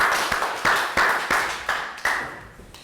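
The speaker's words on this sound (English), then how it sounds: "Round of applause" A small group of children in a Year 3 classroom claps a few times, about seven sharp, separate claps in an uneven rhythm that fade out with no talking.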